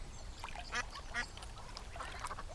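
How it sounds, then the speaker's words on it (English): Cartoon ducks quacking beside the Fenland track in a Thomas & Friends episode, a few short nasal quacks in quick succession over a soft background. "The ducks were swimming happily."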